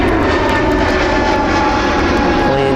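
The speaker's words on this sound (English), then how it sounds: "Planes taking off" Loud, steady roar of jet airplanes taking off near a baseball game in Warwick, a continuous engine rumble filling the whole stretch without pause.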